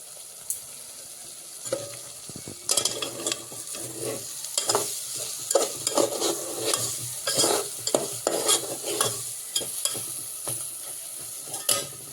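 Masala sizzles in hot oil for mutton curry while a spoon scrapes and stirs the pan in repeated strokes, close up, with no talking.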